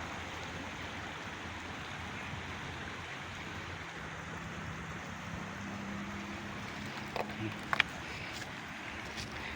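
A river flows with murky water, a steady, fairly loud broadband rush running through the whole stretch, with faint voices beneath it and a few brief clicks near the end.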